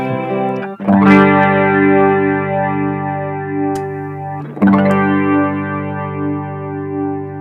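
Sustained guitar chords played through a DirectAmp with a New Neighbor Inspire stereo effect, two struck chords ringing out with a shimmering, spacious chorus-like wash and reverb.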